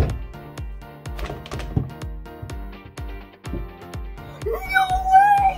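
A basketball bounces repeatedly on a hard floor during a bounce trick shot, producing a steady series of sharp thuds. Playful electronic sound effects rise over the last second.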